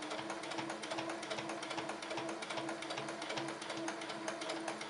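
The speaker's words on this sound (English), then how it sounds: "Now it's working, so I'm just sewing along." A domestic sewing machine stitches steadily while a vintage romper is being altered, a continuous close whirring hum with a faint repeating mechanical rhythm, fairly quiet and without voices.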